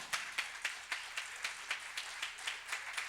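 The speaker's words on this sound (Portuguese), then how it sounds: "Você pode aplaudir o Senhor?" A church congregation claps in worship with a steady, even beat of about four claps per second, faint and distant with nobody talking over it.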